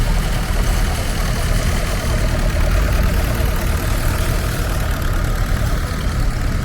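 A vintage tractor's Ford engine runs steadily at a show, with a constant close, loud mechanical drone and no talk.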